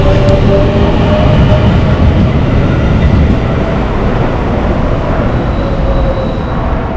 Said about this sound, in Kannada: ಸ್ಟೇಷನಲ್ಲಿ ನಿಂತಿರ್ಬೇಕಾದ್ರೆ ನಮಗೆ ಈ ಹೆಲೋ ಕಿಟ್ಟಿ ಹರುಕಾ ಟ್ರೈನ್ ಸಿಕ್ತು